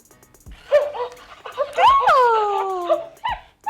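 An IMC Toys Lucy electronic toy puppy gives short yips and a long, wavering electronic whimper, close and clear, with someone speaking around it.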